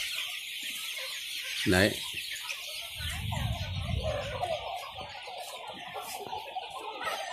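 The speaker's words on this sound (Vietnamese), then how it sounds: "Đây, đây là một đàn gà 1 tháng tuổi nha các bạn." Chickens a month old, part of a flock of thousands on a farm, cluck and chirp continuously nearby. A brief loud squawk stands out early, and a short spoken word comes partway through.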